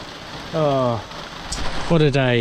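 Steady rain pattering on a surface during a long uphill bicycle climb on a tour through the Alps, a constant close hiss under a tired man's brief spoken remark.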